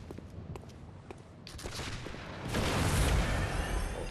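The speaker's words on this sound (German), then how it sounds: "Schießen beide auf mich" Enemies open fire in the video game Bloodborne, a dense burst of gunshots and booms swelling louder in the second half over a noisy game background.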